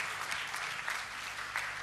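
Convention audience clapping, a short stretch of sustained applause from a large crowd in a hall, evenly dense and somewhat distant, fairly quiet.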